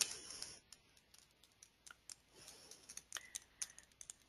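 Quick, light keystrokes on a computer keyboard, a quiet irregular patter of close clicks with short pauses between bursts, and no voices.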